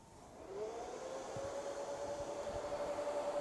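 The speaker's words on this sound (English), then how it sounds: "you can hear, I hope, the vacuum that is actually sucking the shirt onto the Platen" A DTG printer's vacuum platen suction rises and holds, a steady whirring airflow drone with a faint tonal whine, constant and fairly close.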